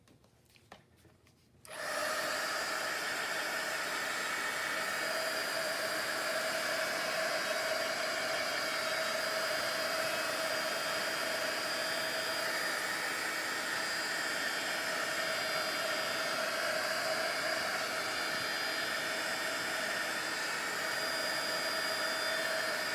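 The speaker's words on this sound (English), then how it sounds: "let's hit that with the heat tool." Heat tool switches on after a brief quiet moment and blows hot air onto a junk journal page, a loud, steady whirring hiss with a constant whine that holds unchanged for about twenty seconds, close to the listener.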